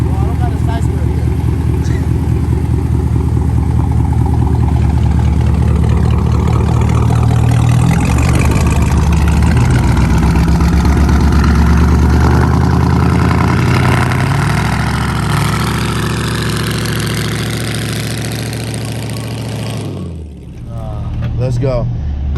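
A manual car sits loudly idling with a heavy, rumbling drone before a burnout at a private spot. The engine stays loud and steady for about twenty seconds, then drops off abruptly, while people talk over it.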